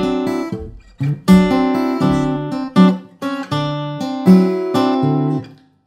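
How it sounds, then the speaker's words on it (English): Acoustic fingerstyle blues guitar in A played with a shuffle feel, bass notes and plucked treble strings alternating in a swung, bouncing rhythm, close and clear with no talking. "And if you're using shuffle,"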